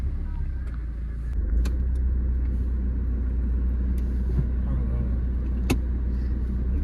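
A car being driven slowly during a driving lesson, a steady low engine and road rumble running throughout, with a few faint clicks and knocks from inside the cabin.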